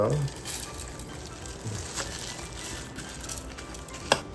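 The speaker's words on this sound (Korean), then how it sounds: "불린 쌀을 넣어줍니다" Soaked rice tipped into a hot pan for Korean milk rice porridge (tarakjuk), a soft steady sizzle with a brief splash at the start and a sharp clink near the end.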